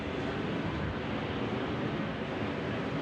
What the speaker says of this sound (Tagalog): Mas malakas dito yung hangin.